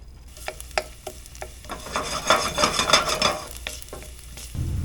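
Garlic toasting in olive oil in a pan gives a soft sizzle under intermittent scraping and stirring strokes, with a denser burst of frying crackle in the middle before settling back to a low hiss.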